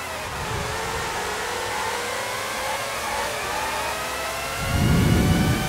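Formula One cars race on a wet track in a video game, with a continuous high-pitched engine whine that holds steady, then a deeper rumbling roar swells near the end.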